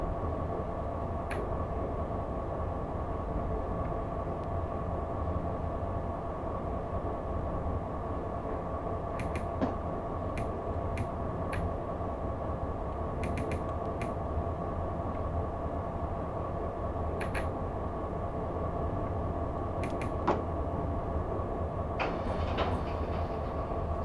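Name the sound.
freight train slowly entering Hergatz station, Train Simulator game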